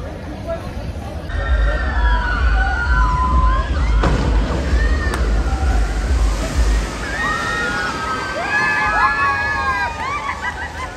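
Water sloshes and splashes loudly on an amusement ride amid a crowd, with excited voices and shrieks rising over the rushing noise.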